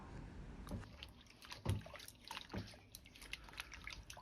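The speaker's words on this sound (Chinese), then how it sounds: "接着先把香菜放入水中清洗干净" Cilantro being rinsed in a bowl of water while cleaning grit from the roots, giving soft sloshing and trickling splashes in a few uneven bursts, fairly quiet and without talk.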